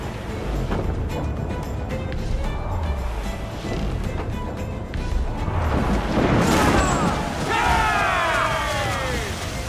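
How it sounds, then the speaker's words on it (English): Mortar fire booms over a noisy naval battle in the pirate game Assassin's Creed IV Black Flag, with dull heavy thuds and crashes under a constant roar of wind and sea, and shouting voices mixed in. "They're firing mortars!"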